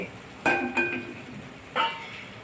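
A spoon stirs a vegetable mixture frying in oil in a pan, with three sharp metallic clinks against the pan over a faint background sizzle.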